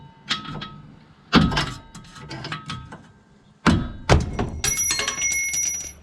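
A bolt is hammered out of the rear spring mount on a Ford F-150 Raptor: a series of sharp metallic bangs and clunks, close and loud, in uneven bursts with ringing after some strikes.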